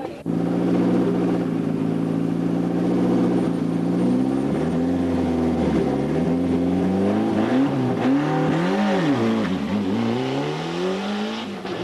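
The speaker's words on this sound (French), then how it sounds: "Si Tasso s'élance sans problème" A rally car engine at the start of the 1997 Rallye du Forez holds a loud steady drone, then rises and falls in several revving swells as it pulls away, close and continuous without talk.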